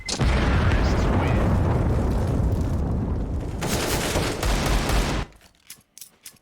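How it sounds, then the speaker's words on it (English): Heavy gunfire in a Counter-Strike match on the Mirage map, a loud continuous barrage of overlapping shots and blasts lasting several seconds before cutting out abruptly to a few scattered faint clicks. "A few bullets come his way."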